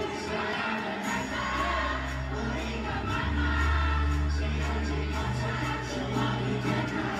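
A concert crowd at a Filipino live show sings along to a song, a dense wall of many voices carrying a sustained melody, steady and loud throughout with faint cheering mixed in.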